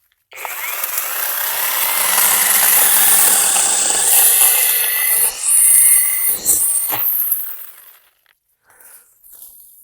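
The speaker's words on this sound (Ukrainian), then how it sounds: "Зараз випробуємо пилку на дереві" A cordless LEADER power saw bites into wood with a loud, steady rasping whine for several seconds, then winds down and cuts off, leaving near silence.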